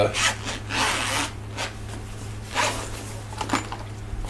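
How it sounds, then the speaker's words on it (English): A few quick zipper pulls and rasping strokes on a Bible cover zipper close to the microphone, in short bursts over a low steady hum. "See, it's got a zipper"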